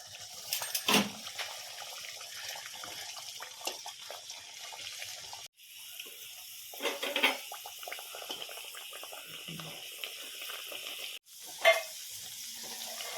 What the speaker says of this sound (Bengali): এইভাবে হালকা ব্রাউন করে লিট্টিগুলোকে ভেজে নিতে হবে।